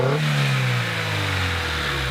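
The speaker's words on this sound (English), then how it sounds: "It's just humming along. These Honda engines." A Honda car engine hums smoothly and steadily at close range with no clanging or clacking, its note dipping slightly after a brief rev.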